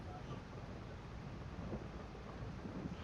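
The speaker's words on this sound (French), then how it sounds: "Oh, ça y est, l'orage maintenant." Thunderstorm in a farming simulator game: a steady, dense wash of rain and wind noise with low rumbling underneath, continuous and fairly even throughout.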